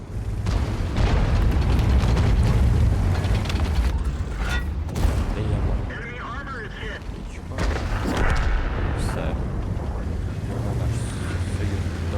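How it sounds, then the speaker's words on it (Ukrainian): Heavy booming T110E5 heavy tank cannon fire in a video game, with rumbling engine noise and metallic clanks, several blasts spread across a dense, loud battle soundscape. "Даємо ще один постріл."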